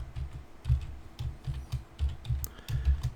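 A password being typed on a computer keyboard, a quick run of soft, dull keystrokes in uneven bursts close to the listener, with no voices.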